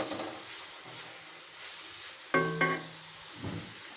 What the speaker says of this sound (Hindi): ये देखिए चिकन का कलर चेंज हो गया है। इसको थोड़ा सा और फ्राई करेंगे।